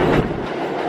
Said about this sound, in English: Flushing Main Street bound 7 local train.